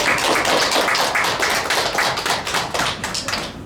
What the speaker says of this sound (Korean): 우리 살아계신 하나님께 감사와 영광의 박수 올려드립니다